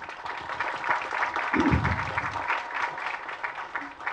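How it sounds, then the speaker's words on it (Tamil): An audience at an NGO event claps together, a steady moderate patter of many hands from the room, with a low voice briefly heard in the middle. "வாங்க, அவங்களுக்கு உங்கள் கரகோஷம் கொடுங்க."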